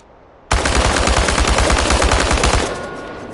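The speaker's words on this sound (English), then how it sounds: "The biggest challenge is compensating for recoil in automatic firing mode." Automatic rifle in Chernobylite fires one sustained burst of rapid shots at cans for about two seconds, loud and close, ending abruptly with a short echoing tail.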